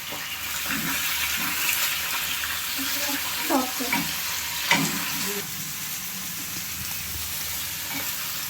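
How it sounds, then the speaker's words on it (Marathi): Chopped onion frying in a pan while cooking palak paneer, a steady soft sizzle with a few louder stirring scrapes and clinks, no talking. "हा पहिले कांदा टाकायचा जास्त लाल नाही करायचं कांदा"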